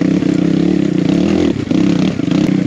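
A dirt bike fitted with a big bore kit roars loudly and close while being ridden, the engine pulsing steadily with a brief dip in throttle midway before picking back up.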